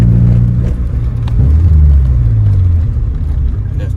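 A bagged BMW E30 on the move gives off a steady low engine drone and road rumble. Its pitch swells around the middle, then settles, with no voices.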